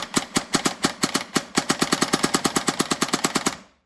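A gun fires in semi-automatic mode, about two dozen sharp, close shots in a fast, fairly even rhythm that quickens slightly toward the end before stopping abruptly.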